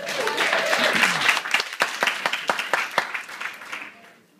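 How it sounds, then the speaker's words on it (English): Audience applause at an evening training session, a dense wash of many hands clapping that stays strong, then thins into distinct separate claps and fades toward the end. "Give them a big round of applause, please."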